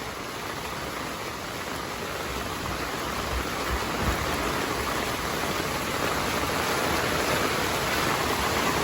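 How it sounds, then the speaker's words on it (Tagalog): Heavy monsoon rain pours outside on Water Dam Road in Gordon Heights during a flood, a steady, dense hiss with no pauses that holds for the whole stretch. "bahana naman guys, malakas na naman ang ulan"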